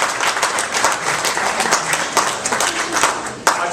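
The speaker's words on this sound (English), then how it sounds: "Let's give them a round of applause." Audience at a city event in a hotel venue giving a round of applause, close, loud and continuous clapping from many people throughout.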